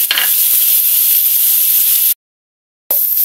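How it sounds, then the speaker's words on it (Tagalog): Pork browns in a hot pan with a loud, dense, close sizzle of spitting oil. The sound cuts out completely for a moment, then the sizzle returns. "Pabayaan muna natin mag-brown ng kaunti ang ating pork."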